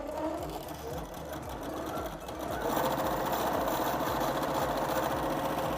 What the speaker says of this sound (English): I'm gonna press sew. And I'm gonna hold the tail while it does its couple of setting stitches.